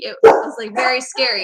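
Pet dogs bark at home: a sharp, loud bark, then further yips and whimpering barks that run together with someone speaking close to the microphone.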